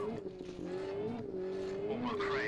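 Rally car engine in the Richard Burns Rally video game, a steady droning note that rises and dips with throttle as the car slips and corners, with faint tire squeal, continuous and close.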